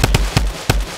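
Fireworks rockets launching in the Fortnite video game: three sharp, loud whooshing bursts spaced across a second, each a quick broadband crack over a low steady rumble.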